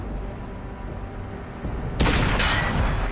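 A tank cannon in World of Tanks, on a Centurion Mk. 1, fires a single loud blast about two seconds in, cutting through low engine rumble and leaving a sustained booming tail.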